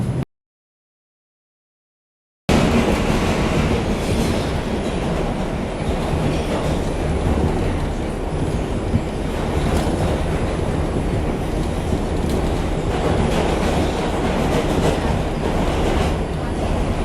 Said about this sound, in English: a Manhattan-bound 2 train via the Lexington Avenue line